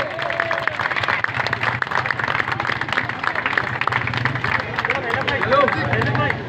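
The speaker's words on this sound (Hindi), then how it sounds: "इन बाइकर्स को जब यहाँ से रवाना करें तो सब अपनी भरपूर तालियों में करें" Crowd clapping to send off riders at a cycle race in Saddar, Karachi, a dense steady applause with cheering and babble running throughout, loud and close, swelling slightly near the end.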